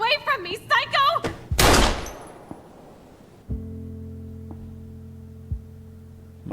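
A single loud, close gunshot in the video game Life is Strange bursts out after a shouted voice and decays into a low, sustained hum with faint later thumps.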